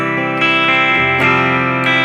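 An electric guitar plays through an amp with its own distortion and no pedals, the pickup muting the highs; loud sustained chords ring out and change a few times in close succession.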